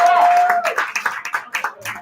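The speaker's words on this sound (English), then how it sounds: "Extend that round of applause to everyone here at the ship" Audience applause and clapping at a ship venue, a brief burst of many hands clapping in uneven rhythm over about two seconds, with a sustained tone at the start and some voices mixed in.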